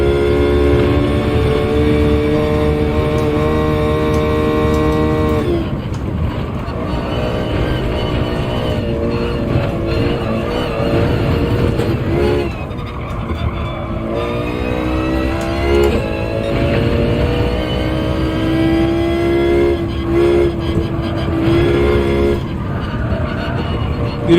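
Race car in Gran Turismo 7 screams at high revs, pitch climbing and dropping through repeated gear changes and downshifts, loud and continuous throughout.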